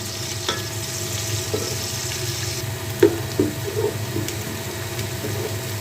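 Onions frying in a pan for vegetable biryani give a steady sizzle, while a spoon stirs them and scrapes the metal in a few close knocks and clinks, with no talk.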